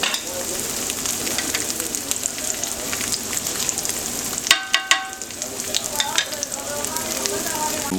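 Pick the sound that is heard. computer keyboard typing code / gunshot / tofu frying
tofu frying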